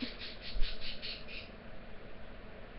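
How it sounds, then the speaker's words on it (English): A pet bird squawks in a run of about six quick, loud calls over the first second and a half, then quiets, leaving steady background noise. No one speaks. "Would you shut up, bird?"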